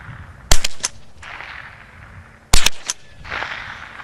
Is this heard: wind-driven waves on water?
no